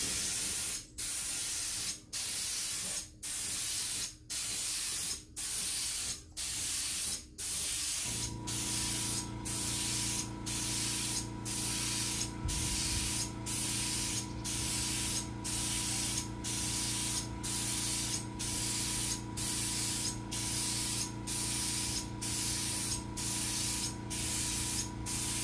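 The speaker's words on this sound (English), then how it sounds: "So I wanna make sure it's spraying right first." A paint sprayer test-sprays paint before coating furniture, delivering a run of short, sharp hissing bursts in a steady rhythm, followed by a sustained motor hum with regular spray pulses continuing close and loud.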